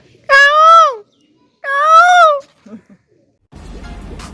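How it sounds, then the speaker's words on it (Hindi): Two loud, wailing peacock calls ring out, each rising and falling, separated by a short pause, followed by faint rustling noise. "मोर की आवाज़ है।"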